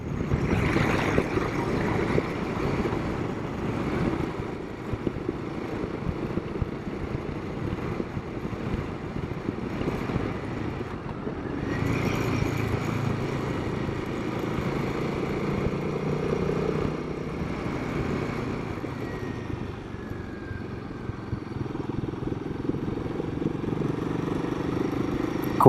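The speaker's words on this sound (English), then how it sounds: "This Himalayan has plenty enough torque to just crawl along here in 4th gear." A Royal Enfield Himalayan motorcycle crawls along in 4th gear, its low engine drone steady and moderate beneath rushing wind, with slight shifts in pitch partway through.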